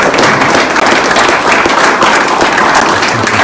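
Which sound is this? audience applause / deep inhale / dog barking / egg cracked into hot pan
audience applause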